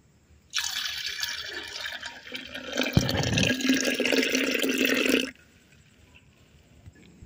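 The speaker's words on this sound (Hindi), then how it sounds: "लो जी छोटी चाटी दे विच मैं पा देता हूँ दुध, ते हुण पाऊंगी मैं पानी, फिर बनाऊंगी जी लस्सी, कच्ची लस्सी।" Milk and water are poured into a small churning pot to make raw lassi, a steady liquid stream splashing for about five seconds with a brief heavier gush midway, close and alone.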